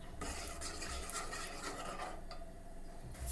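Kadal pachi ingredients being mixed in a pot, a close, continuous scraping and stirring rasp with soft rubbing strokes and no voices.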